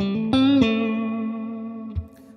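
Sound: electric guitar, volume rolled back

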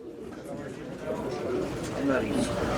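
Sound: pigeons at a bird auction

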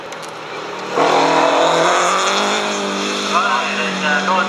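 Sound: Ford Cortina MK 2 race car passing at Leyburn

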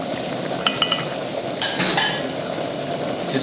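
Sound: salt-baked onions placed into a warm pan of butter

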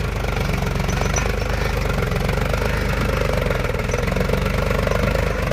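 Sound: Powertrac Euro 50 tractor with rotavator running in hard soil

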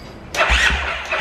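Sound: fuel-injected 150 motorcycle engine starting

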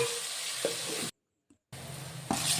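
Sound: onion and tomato sautéing in oil in a kadai

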